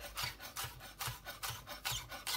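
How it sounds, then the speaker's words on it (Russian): Green onions are sliced on a board for a tuna salad with corn, giving a quick, steady series of about ten soft, crisp rasping knife strokes, close and quiet with no talking. "И в конце нарезаем наш зеленый лучок"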